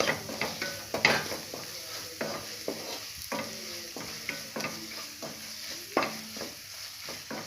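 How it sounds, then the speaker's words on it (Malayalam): Chili powder is stirred into a masala for a kappa (tapioca) dish in a pan, with repeated rhythmic scraping and knocking of a spoon over a soft continuous sizzle, fairly close. "അതൊന്ന് ഇളക്കാം."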